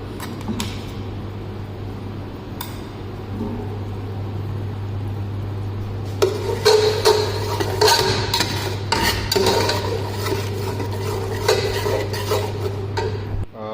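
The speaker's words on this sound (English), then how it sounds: "So now I will put this ginger garlic paste. So little ginger garlic paste you can put here, okay, and mix well." Ginger garlic paste is worked into a pan with a utensil for chicken sausage curry. Faint scraping gives way to louder, busier clattering and stirring halfway through, over a steady background hum.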